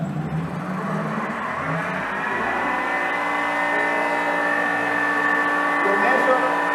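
Electric motor on a lab machine powering up, a steady whirring hum that rises in pitch as it gathers speed, heard close with speech over it.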